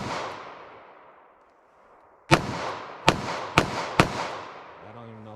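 Handgun shots fired left-handed at target practice: one sharp report, a pause, then three more evenly spaced close, loud bangs, each with a long decaying echo.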